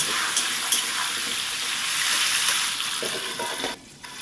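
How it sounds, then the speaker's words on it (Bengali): Potatoes fry in a pan with salt and turmeric for a bhindi-aloo curry, a steady close sizzle with light stirring that cuts off briefly near the end. "হলুদ লবণ দিয়ে আলুটাকে সুন্দর করে লাল করে ভেজে নেব"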